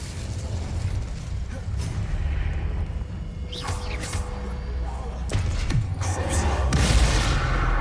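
Fire spell cast in Hogwarts Legacy on PS5, with a whooshing burst and crackling flare amid game effects and low rumbling ambience, fairly loud, with brief spoken incantations.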